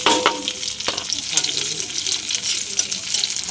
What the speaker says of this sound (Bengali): ঘিয়ের পরে আমি আদাটা দিয়ে দিলাম।